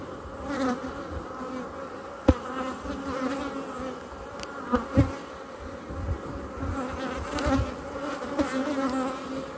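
Colony of black honeybees buzzing steadily during a hive inspection, close and constant, with a few sharp knocks and clicks from handling the frames.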